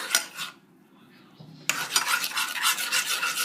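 Chocolate glaze is stirred in a pot over medium to high heat, a utensil scraping and rubbing against the metal in close bursts with a short quieter pause before the stirring resumes.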